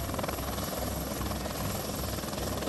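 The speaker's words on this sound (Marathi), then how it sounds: "आता काही तरुणांना घेऊन पुन्हा हेलिकॉप्टर जे आहे ते बाहेरच्या भागामध्ये येत आहे" A rescue helicopter flies low over the Girna river near Nashik during a flood rescue of stranded fishermen, its steady rotor thump and turbine roar loud and continuous throughout.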